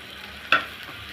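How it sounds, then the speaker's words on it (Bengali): Spice paste frying in a pan with onions and salt makes a soft, faint sizzle, briefly punctuated by a single short scrape or clink of the spatula. "ভালো করে পেস্টটা আমি ভেজে নিব।"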